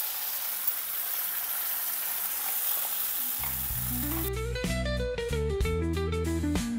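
A paste of bottle gourd leaves, onion, tomato, ginger, garlic, poppy seeds and cumin fries in a pan with a steady close sizzle, later overlaid by loud background music.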